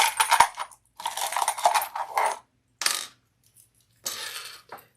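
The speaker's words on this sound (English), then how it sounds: "let's put our zipper pulls on" Metal zipper pulls being attached give off bright clinking and jingling in several short bursts, close and fairly loud, with quiet gaps between them.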